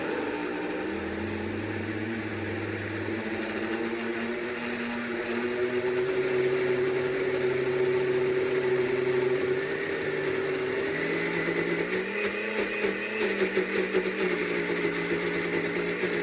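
An electric mixer whirs steadily while mixing cottage cheese at home, a loud continuous motor drone with shifting pitch as the beaters work through the curds, running without pause for the whole stretch.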